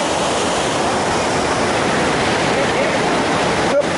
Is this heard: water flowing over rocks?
yes